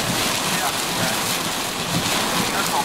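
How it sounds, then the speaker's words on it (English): Heavy rain pours down with strong wind in a severe summer thunderstorm in central Pennsylvania, a loud, dense, continuous roar of falling water and gusts close to the microphone. "the really heavy wind and heavy rain right now"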